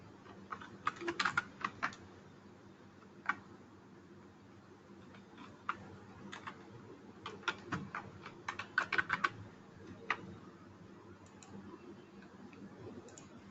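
Login password being typed on a computer keyboard, quiet and close, with irregular bursts of key clicks and a few single isolated taps between pauses.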